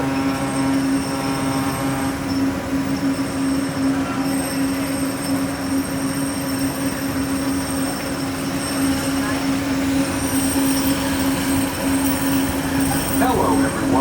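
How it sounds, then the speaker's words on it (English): Disneyland Monorail running with a steady loud rolling rumble and constant tonal whine from the train, brief wheel squeal near the end; faint voices present. "Welcome aboard the Disneyland Monorail"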